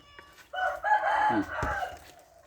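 A rooster crows once, loud and close, in a backyard where chickens are being fed, with a faint voice in the background.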